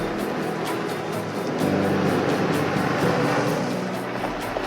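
A car rolls along a desert road toward the canyons on El Camino del Diablo, its engine droning steadily with a rough, rumbling hum that holds at close range for several seconds.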